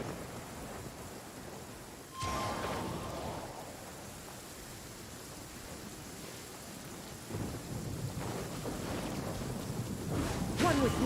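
Steady rain hisses in Genshin Impact while thunder rumbles in, with one sharp crack early and a louder roll near the end, all at low, even loudness.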